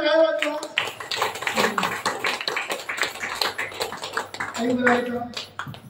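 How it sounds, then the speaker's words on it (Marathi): Applause from a gathered audience at an event in Mhasrul, Nashik, a steady patter of many hands clapping together, with a voice calling out near the start and again toward the end. "तो जोरात टाळ्या वाजवा"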